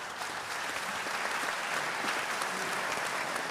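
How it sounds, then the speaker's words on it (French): Continuous applause from an audience at an opening plenary session, a dense even wash of clapping heard throughout at moderate volume. "Je pense qu'on peut les applaudir"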